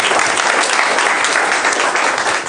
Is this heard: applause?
yes